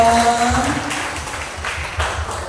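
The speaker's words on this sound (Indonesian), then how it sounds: "Masya Allah, tepuk tangan dong." Applause from an audience of teachers at a writing workshop, moderate scattered clapping that starts with a brief voice over it and then tapers to thinner, uneven claps.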